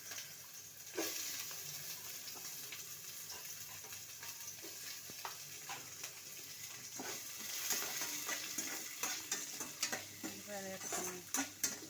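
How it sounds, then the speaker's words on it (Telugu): Onions frying in a pan with shahi jeera and cloves for a quick home-style rice dish, a steady close sizzle broken by frequent scraping and clicking stirs. "ఫ్రై అయినాక ఉల్లిపాయలు వేసుకొని"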